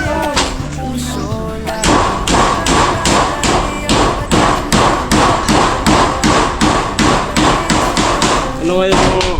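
Hammering on galvanized iron roof sheets while a roof is being put up: a long run of loud, steady, evenly spaced metallic blows, close by, with brief talk at the start and end.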